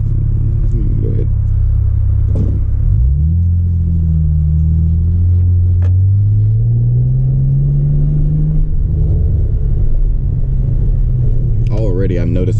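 Modded fifth-generation Camaro with a newly fitted cold air intake, droning steadily from inside the cabin as it pulls away, with engine pitch climbing gradually through acceleration and a brief voice at the end.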